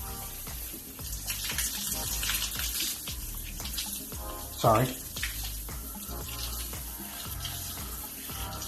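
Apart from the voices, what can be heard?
shower water rinsing tiles and grout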